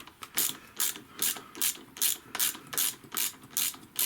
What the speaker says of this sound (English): Tiny ratchet.